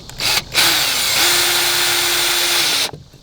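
A power drill drives a screw into wooden boards for a quail and chicken coop, starting with two short bursts and then a steady, loud, close whirring that runs for about two seconds before stopping.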